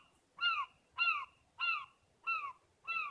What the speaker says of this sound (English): Wow, that seagull's annoying.